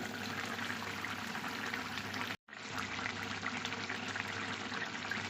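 Fish head curry with mustard bubbles in a pot on the stove, a steady simmering hiss and gurgle, briefly cut off by a short silent gap before resuming.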